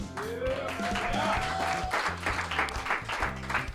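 Open mic audience at the Nuyorican Poets Cafe event at the Loisaida Center clapping in steady applause, with a rising whistle and a voice over the crowd.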